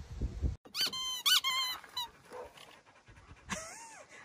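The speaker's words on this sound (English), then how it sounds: "just got a brand new squeaky ball." A dog excitedly chews a brand-new squeaky ball toy, producing a quick run of sharp, high squeaks at close range, broken by short pauses and soft panting.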